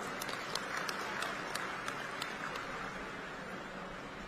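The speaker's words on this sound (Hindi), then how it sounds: "जोरदार ताली से स्वागत करा।" Crowd at a Bharatiya Janata Party political gathering clapping steadily, a dense continuous wash of applause with sharper individual claps standing out, held at an even level throughout.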